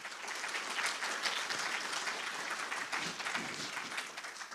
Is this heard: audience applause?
yes